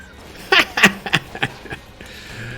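A pet cat lets out a few short, high squeaks in quick succession, close and fairly quiet, with a soft murmur of room noise underneath.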